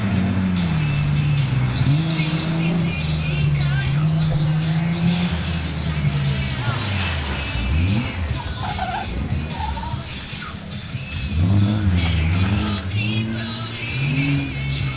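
BMW E30 autoslalom car running the Ivarčko 2014 course, its engine droning and revving up and down steadily throughout, with a commentator talking over it.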